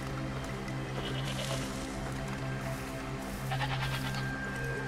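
A goat bleats in the video game Far Cry 2, giving two wavering, nasal bleats over a humming ambient bed, moderately close and with no one talking.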